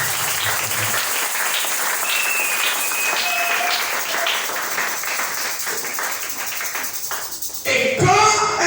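A church congregation applauds during a worship service, producing dense, steady crowd clapping that runs throughout and swells slightly near the end.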